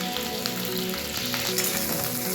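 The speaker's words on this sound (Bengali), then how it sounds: "এবার এটাকে একটু ভেজে নেব।" Chopped onion and capsicum sizzle in a pan of oil with garlic, a continuous close crackle and hiss that stays loud and even throughout, cooked as the base for a chilli fish dish.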